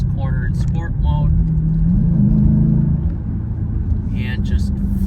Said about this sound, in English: And now I'm going to take this corner in sport mode